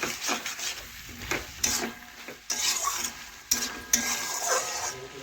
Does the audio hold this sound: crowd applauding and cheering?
no